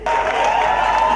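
Audience applause at a comedy awards show, a steady wash of clapping from a crowd that starts abruptly and holds at an even level throughout.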